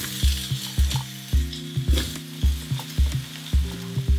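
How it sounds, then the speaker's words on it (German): Zucchini frying in hot oil in a pan, a steady sizzle broken by rhythmic scraping and clanking of a utensil stirring about every half second, close and without talk. "Jetzt braten wir die Zucchini in Öl an."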